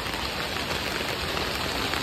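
Heavy rain pours steadily outdoors near Har Ki Pauri, a dense, loud, unbroken hiss of drops close by with no break.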